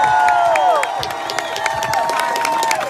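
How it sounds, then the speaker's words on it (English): An audience at a speaking event breaks into steady applause mixed with cheering, a dense, continuous wash of clapping and crowd noise held at a fairly loud level throughout. "How about a big round of applause for Mark McConaughey?"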